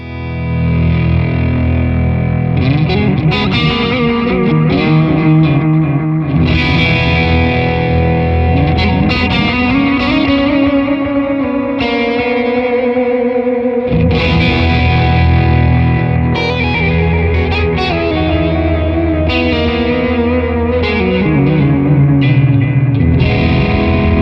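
Electric guitar through a BOSS DM-2w delay pedal set to a long delay with many repeats, near self-oscillation; dense, loud, smeared echoing notes pile up and sustain continuously, with shifting pitched trails and no talking.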